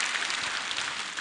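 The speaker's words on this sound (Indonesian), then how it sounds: "Beri tepuk tangan buat orang Indonesia." An audience at a religious lecture claps in a brief, dense burst of applause that stays at an even level, with no voices.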